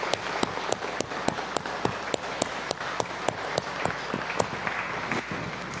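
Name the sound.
applause during a church Mass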